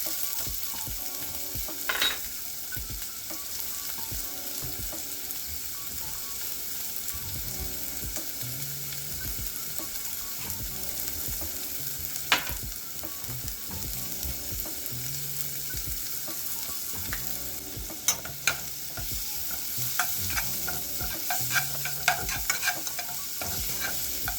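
Garlic and green beans sizzle in a pan over slightly lowered heat, a continuous close frying hiss broken by frequent stirring scrapes and occasional sharp clinks of a utensil against the pan.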